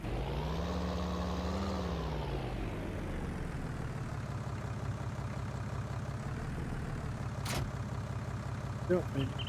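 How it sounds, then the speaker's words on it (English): Fendt tractor engine idling in Farming Simulator 19, a steady low mechanical drone that rises slightly in pitch before settling, with a brief sharp click near the end. "Let's go ahead and hook up to our Fendt tractor here."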